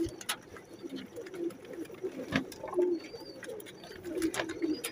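Pigeons kept as pets, a mix of apple-coloured and blue birds, coo repeatedly in low rolling calls over a soft background with faint chirps.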